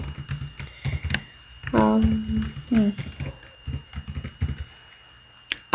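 Someone types an email address on a computer keyboard in quick, uneven bursts of crisp clicks, with a brief voice partway through.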